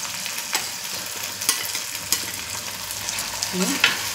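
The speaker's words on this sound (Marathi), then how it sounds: "टाकत आहे अद्रक लसूण मिरचीची पेस्ट" Ginger, garlic and chili paste fries in hot oil with tomato for a dhaba-style mixed vegetable gravy, giving a steady close sizzle with a few sharp crackles and spoon scrapes, no talking.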